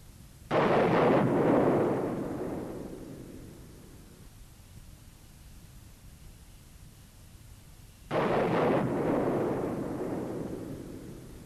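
Canopy of a Sukhoi Su-27 fighter jet blowing off during an ejection sequence, two loud explosive booms that each roll away into a long fading rumble, separated by a quiet gap.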